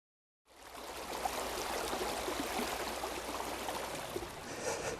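The Metolius River flows steadily along its banks, a broad continuous rush of water close by with no voices.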